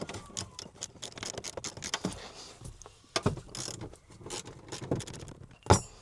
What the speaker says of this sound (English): Start by using your 14mm socket to remove the front seat bolts.